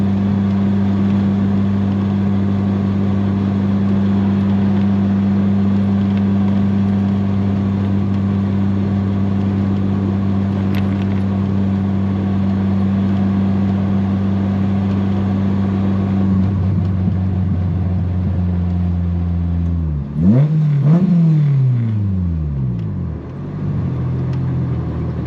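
A K-swapped Honda Del Sol holds a loud, steady engine drone with a strong low hum for most of the time, then revs and sweeps sharply up and down near the end as the tires spin.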